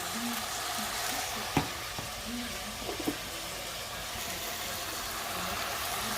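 Lamb meat sizzling in a pot on medium heat, a steady close frying hiss running throughout, with a few faint clicks and knocks from the pan.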